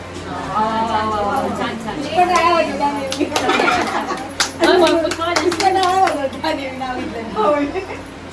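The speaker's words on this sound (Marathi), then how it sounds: "आता सून टाळ्या वाजवणार" Hands clap amid a lively family gathering for a Satyanarayan puja in a Konkan village home, with women and children chattering and calling out throughout, the claps mixed under steady overlapping voices.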